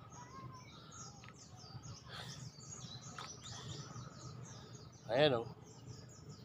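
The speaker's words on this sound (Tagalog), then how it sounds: "Puro huni ng ibon marinig mo dito." Several birds chirp and tweet outdoors in short scattered calls, fairly faint and distant, with one louder voice speaking briefly near the end.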